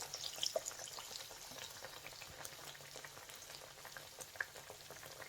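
Lentil fritter patties, vada, deep frying in hot oil, a steady close crackling sizzle with small scattered pops, fairly quiet and with no talking.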